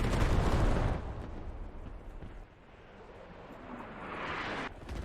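Mortar strike in a competitive video game match, a loud rumbling blast burst at the start that settles into a sustained roaring, crackling wash of debris and distant fire, swelling again near the end.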